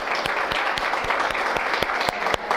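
Congregation applause at a Spanish-language church service, honoring the pastor's wife: steady, dense clapping from a room full of people, with a few sharp individual claps standing out above the wash.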